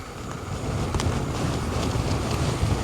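Strong, steady wind roars and buffets around a tent at a wild camp in brutal weather, a dense continuous rush with faint gusty swells and no voices.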